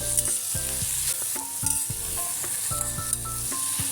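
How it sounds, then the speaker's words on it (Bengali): Egg curry spices with salt and turmeric being stirred in a hot pan, a steady sizzle under repeated scraping strokes of a spoon against the metal, close and loud with a regular back-and-forth rhythm. "এবার আমি এটাকে ভালো করে মিশিয়ে নিচ্ছি।"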